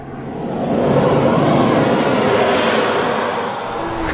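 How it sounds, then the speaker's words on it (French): An airplane approaches a grass airstrip in a village in the Central African Republic, its engine drone swelling into a loud, steady roar that holds and eases slightly near the end. "L'avion approche."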